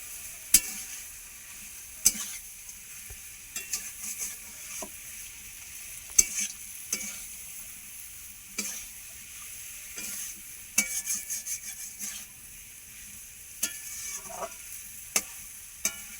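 Fish-head muri ghonto being stirred in a pan, with sharp scraping clacks of a spatula at irregular intervals over a faint, steady sizzle.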